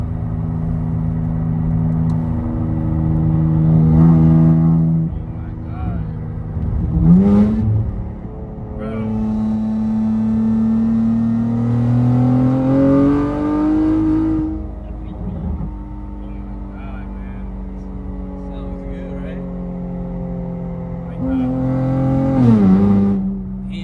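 An Infiniti Q60 engine revs repeatedly with exhaust valves open, a loud, raspy exhaust, pitch climbing and falling through several throttle blips, with faint voices now and then.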